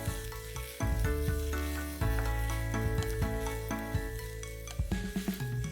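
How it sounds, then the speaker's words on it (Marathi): Three finely chopped onions sizzle steadily in a pan for a Maharashtrian shepu (dill) bhaji, with repeated scraping and clinking strokes of a spoon stirring them, close and loud with no talk. "आता हे मिक्स करूया आणि कांदा मऊ होईपर्यंत थोडीशी वाट बघायची आहे."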